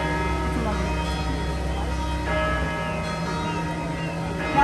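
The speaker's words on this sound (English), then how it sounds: "The church steeple back on this right side, those are the bells." Church bells of St. Joseph's Catholic Church, a German church built in 1868, ringing the hour, heard from a river boat in San Antonio; steady overlapping tolls sound at a moderate distance under boat and ambient noise.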